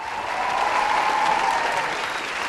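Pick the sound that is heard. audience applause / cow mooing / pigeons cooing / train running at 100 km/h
audience applause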